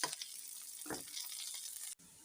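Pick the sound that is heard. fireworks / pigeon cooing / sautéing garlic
sautéing garlic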